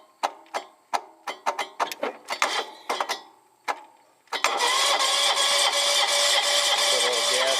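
A 1987 Wheel Horse 257H lawn tractor, left sitting for a year, gives a run of sharp clicks and clunks before its engine cranks over with a loud steady whirring close by.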